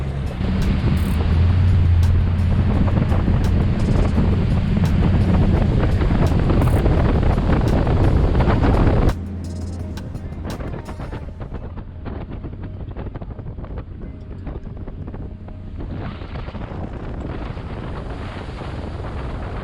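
A 2021 Ranger Z520L bass boat runs across a lake, its outboard engine roaring loud and close with rushing water and wind buffeting the microphone, then easing to a steadier, somewhat quieter cruise partway through.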